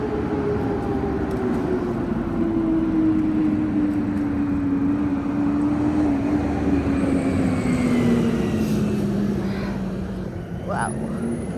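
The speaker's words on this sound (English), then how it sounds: "I hear the garbage truck coming." A garbage truck rumbles along Queen Street West in downtown Toronto at night, a steady low drone that slowly drops in pitch as it passes, under constant road and wind noise.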